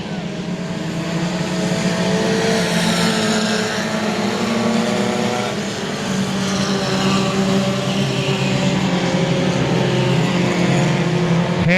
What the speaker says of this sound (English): Hannah's got to stay out of the way of the faster moving tuner cars.